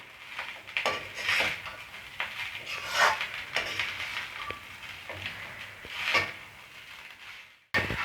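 Egg fried rice being stirred in a pan: soft scraping and light clinks of a spatula against the metal, recurring every second or so at a close, moderate level, with no talking.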